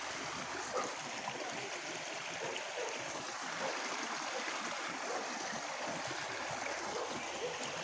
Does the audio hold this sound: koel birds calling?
no